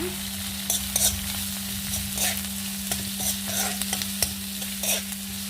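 Crushed garlic sizzles in hot oil with neem leaves while a spoon stirs the pan for a brinjal gojju, a steady close fry with scraping strokes over a constant low hum.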